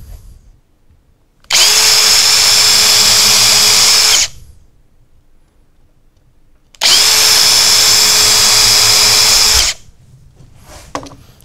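A power drill bores holes into a pallet wood shelf in two loud, close bursts of about three seconds each, separated by near silence, with a faint knock at the end.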